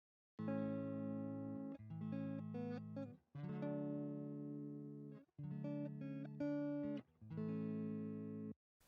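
Electric guitar playing rhythm chords with a clean tone, several strummed chord phrases separated by short pauses, loud and close with no voice.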